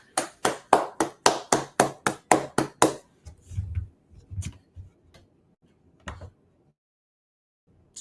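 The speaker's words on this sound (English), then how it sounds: "Clap it up." Congregation at the close of a Sabbath service claps in about nine sharp, evenly spaced claps, then a few scattered taps and soft thumps fade into near silence.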